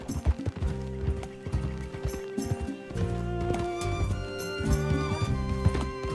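Horse hooves clip-clop in the western game Red Dead Redemption 2, a busy rhythmic clatter under game music and ambient sound, with occasional snorts and mechanical creaks.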